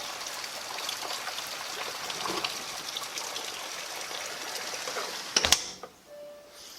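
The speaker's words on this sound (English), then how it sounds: "it is raining outside" Steady rain hisses and patters outside, a continuous wash of droplets, then a brief clatter before the sound drops away to near quiet.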